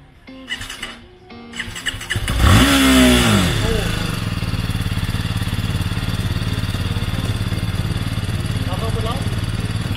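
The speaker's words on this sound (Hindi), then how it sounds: "BMW बाइक चलाते" A BMW motorcycle cranks over, catches and revs up with a rising whine, then settles into a loud, steady idle that fills the rest of the clip.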